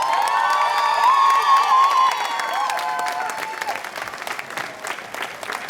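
Large crowd in Piazza Manzoni, a town square in Jesolo, claps loudly with whoops and cheers riding on top at first, then the applause continues as a broad, steady wash that gradually thins out.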